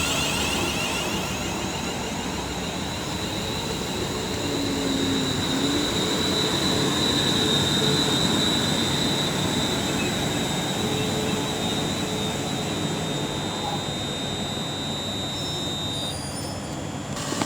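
A Class 350 electric multiple unit train at Marston Green on the West Coast Main Line, sounding as a steady broadband rumble with a faint high whine and wheel squeal throughout, close and continuous with no talk.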